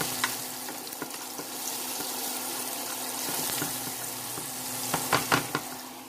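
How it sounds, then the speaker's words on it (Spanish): Finely chopped onion and ground garlic fry in the pan used for the fresh cod, making a loud, steady sizzle with stirring scrapes and a few sharper pops near the end. "Agregamos la cebolla bien picadita, un poco de ajo molido,"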